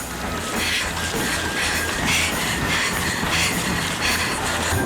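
A subway train rolls along at speed, its steady loud rumble mixed with rhythmic wheel clatter and faint metallic squeal, continuous throughout with no voices.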